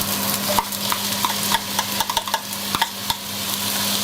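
Garlic and onion frying in hot oil in a pan, a steady loud sizzle broken by sharp clicks and scrapes of stirring throughout, with no talking.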